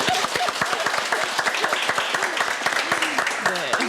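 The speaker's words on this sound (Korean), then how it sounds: "박수 한번 부탁드립니다." Audience applause at a Korean film talk event for the movie 'How to Steal a Dog', steady dense clapping filling the whole stretch, loud and continuous.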